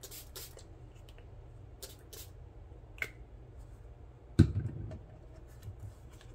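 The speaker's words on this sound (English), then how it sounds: "Get my spray." A single sharp spray burst, close and loud, stands out from quiet background with a few small clicks and taps around it.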